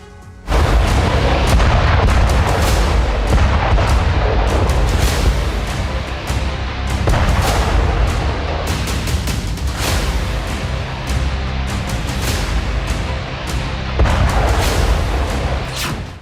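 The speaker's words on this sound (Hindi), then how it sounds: "ये धमाके, ये हमले, ये बारूदी बरसात खेरसोन की है" Repeated heavy artillery booms and explosions in Kherson during the Russia-Ukraine war, loud and close, rumbling continuously with sharp blasts every few seconds and no talking.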